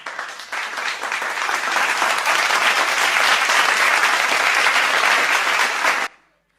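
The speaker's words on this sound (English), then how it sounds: "Let's give both of them a big, big round of applause" Sustained audience applause at an awards ceremony for health and wellness marketing, loud and steady for about six seconds before cutting off abruptly into silence.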